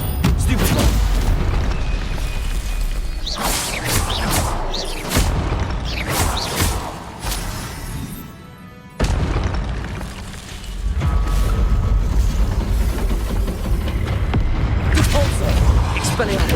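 Repeated Confringo spell blasts in Hogwarts Legacy, with booming explosions and crashes throughout a dense stretch of combat noise, a player's voice shouting over them.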